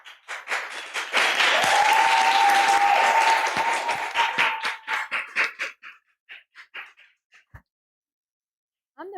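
An audience applauds at a live talk event with loud, full clapping that swells, holds for a few seconds, then thins into scattered claps and fades out.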